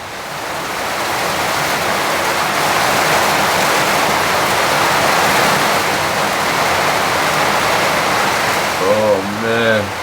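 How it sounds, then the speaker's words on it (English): Heavy torrential rain pours outside a remote cabin at night, a loud, steady roar of downpour that holds for the whole stretch, with a brief voice breaking in near the end. "You have no idea how loud these big lashings of rain are."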